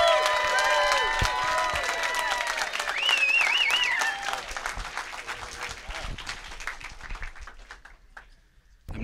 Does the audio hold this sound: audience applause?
yes